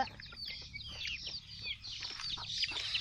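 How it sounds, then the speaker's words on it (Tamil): Roosters and native country chickens cluck and squawk in a busy, overlapping chorus close by on a farm, with no talking. "இங்கே பாருங்க நிறைய சேவலாம்"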